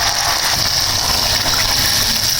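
Water is poured from a mug into raw rice in a cooking pot for chicken keema pulao, a loud, continuous gushing splash that runs steadily from start to finish.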